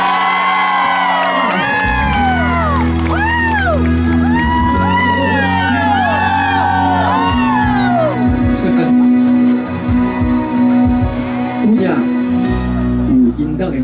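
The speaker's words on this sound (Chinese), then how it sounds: "给自己掌声加尖叫声" A concert crowd at a show in Cijin screams, whoops and cheers loudly, with rising and falling shrieks over a sustained roar and scattered clapping.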